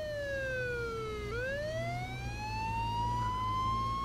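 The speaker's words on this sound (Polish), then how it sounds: "Jest, jedzie policja." Police car siren from the video game H1Z1 wails steadily and loudly, its pitch dipping then rising again as the vehicle passes, over a low engine rumble with no talk.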